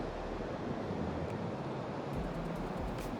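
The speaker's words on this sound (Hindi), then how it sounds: "और नीचे पानी का आवाज़।" Broadband rushing water from a river flowing below a swaying footbridge on a snowy March trek in Himachal Pradesh's Barot Valley, a steady wash mixed with wind buffeting the microphone, with no voices.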